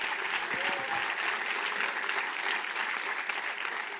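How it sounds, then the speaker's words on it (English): A large audience at a gathering honoring Aretha Franklin breaks into sustained, dense applause, a steady wash of many hands clapping that holds at full strength throughout with faint crowd noise beneath. "we ought to give, as I would say in my home church, the Lord a mighty hand clap tonight for giving us Aretha"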